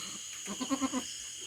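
A single short, wavering bleat from a goat, faint against a steady background hum.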